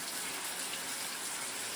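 Steady gush of lukewarm running water filling a tub or shower for a pet's wash, a continuous broadband rush close to the microphone with no pauses and no voices.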